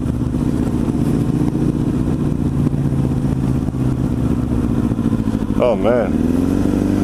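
A motorcycle engine revs hard near 4,000 RPM with the clutch out in a high gear, a loud, steady close drone that swings up and back down near the end while a voice briefly exclaims.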